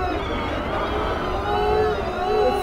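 The Porsche GT4 E-Performance electric race car drives on an ice circuit with a steady electric motor whine carrying tonal harmonics that shift gently over a continuous road and wind rumble.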